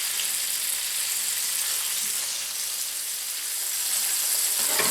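Whole catfish fry in a pan with a steady, loud sizzle of hot oil that stays constant throughout, with no talking.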